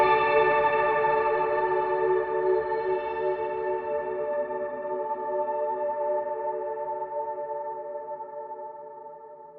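Electric guitar with ambient effects set to a darker tone, a warm sustained pad-like chord swelling with echo and reverb, gradually fading over several seconds, played alone without voices.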